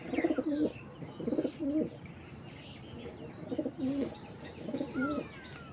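Racing pigeons cooing in a loft, with several distinct rhythmic coo phrases repeating at moderate loudness and short pauses between them, plus faint chirps from other birds in the background.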